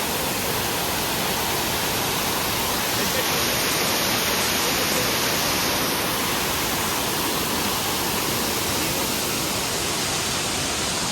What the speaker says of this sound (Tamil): இந்த பாருங்க, வாட்டர் ஃபால்ஸ் பாருங்க, நல்லா இருக்கு